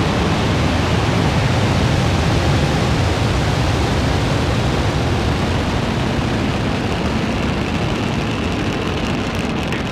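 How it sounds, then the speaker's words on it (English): A SpaceX Falcon 9 rocket roars at liftoff on a Starlink launch, a dense, steady broadband rumble that fills the whole span, loud and continuous with no voices over it. "3, 2, 1, ignition, engine full power, and liftoff."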